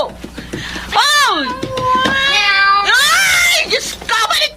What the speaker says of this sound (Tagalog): Ayan na naman ang taping meow na pusa!